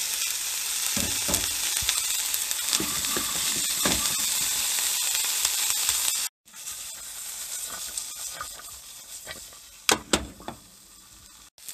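Bacon and rice frying together in a pan for fried rice, a steady loud sizzle with stirring scrapes and clatter, briefly cut off midway and then resuming, with no talking.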